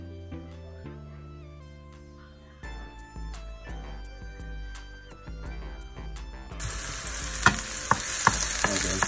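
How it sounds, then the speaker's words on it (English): Vegetables sauté in a hot wok for jerked pork fried rice, starting quietly under a steady melodic tone, then breaking into a loud, broad sizzle with sharp clanks near the end. "Saute the vegetables."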